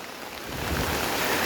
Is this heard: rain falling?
yes